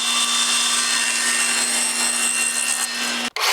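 Table saw cutting 1/4-inch hardboard templates, a steady humming whine with a constant tone that runs for about three seconds before cutting off abruptly.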